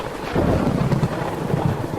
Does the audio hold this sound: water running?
no